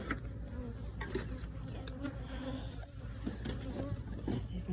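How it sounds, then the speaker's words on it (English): Honeybees buzzing around a beehive in a Southeast Alabama apiary in May, a close, steady insect drone with individual bees passing near, over outdoor background noise. "Let's see if I can get rid of these bees."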